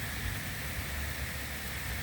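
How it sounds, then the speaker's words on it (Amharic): Rain falls after a long hot, dry spell, a soft, steady hiss of drops hitting surfaces that stays even throughout, with no voices. "ከብዙ ጊዜ የመጣ ዝናብ፣ ከሙቀት በኋላ የመጣ ዝናብ ነው"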